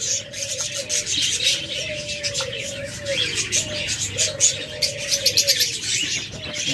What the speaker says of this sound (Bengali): একটা লাভবার্ড আছে